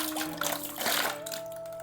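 Aquarium rocks for a turtle tank are swished and rinsed in a container of water, giving a short burst of sloshing and splashing with a faint steady hum beneath.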